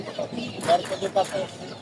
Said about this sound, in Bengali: অনেক সুন্দর একটা মুরগি আছে, খুবই সুন্দর